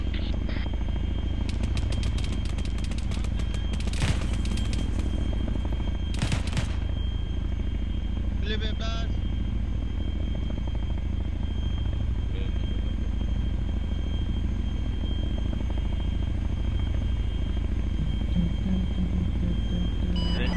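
A helicopter in the military video game ARMA, set in a desert operation, drones steadily and loudly throughout with a constant rotor and engine hum. Sharp gunfire cracks break through at moments, and faint radio voices sit underneath.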